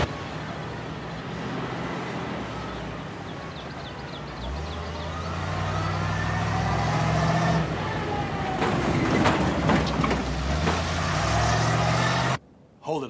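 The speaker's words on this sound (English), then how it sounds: "Truck just passed checkpoint." A truck rolls past a roadside checkpoint, its low engine rumble building and growing louder over several seconds before cutting off abruptly near the end.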